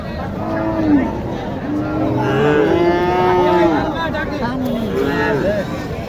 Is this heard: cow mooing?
yes